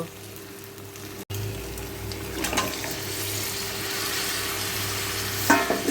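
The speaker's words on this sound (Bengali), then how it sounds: "এবারে আগে থেকে ম্যারিনেট করে রাখা মাংসটা আমি এর মধ্যে দিয়ে দেব" Marinated chicken goes into a frying spice paste, a sudden wet crackle and hiss that settles into a continuous loud sizzle, with a faint clatter near the end.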